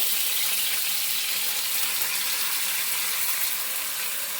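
Onions sizzle in hot oil in a large pan for a simple chicken fry, giving a steady, even crackling hiss throughout, close and fairly loud, with no talking.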